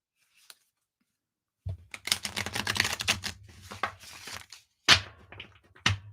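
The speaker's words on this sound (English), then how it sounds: "I like to shuffle 3 times" A deck of playing cards is shuffled three times, giving bursts of rapid riffling and flapping, each a second or so long and close by, separated by brief pauses, with no one speaking.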